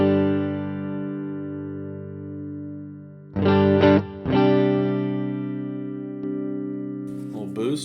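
A sustained, muffled electric guitar tone through a NUX amp, with a few sharper strummed chords in the middle and a short run at the end.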